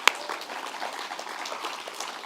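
Crowd applause at a HIAS and JCORE launch celebration: a steady, moderate patter of many hands clapping, with one sharp clap near the start.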